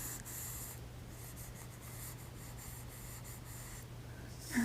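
Marks are erased from a board during a whispered music lesson: soft, steady rubbing and wiping strokes, quiet and close, over a low constant hum, with a small bump at the end.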